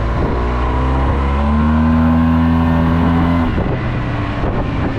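A Yamaha TMAX scooter accelerates, its engine drone rising steadily in pitch under heavy wind rush, close and loud throughout.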